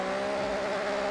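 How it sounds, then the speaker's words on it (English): A car engine in a racing video game drones at a steady, sustained pitch with a clear tonal hum, holding constant for about a second. "I need to turn up the volume so I can hear the engine"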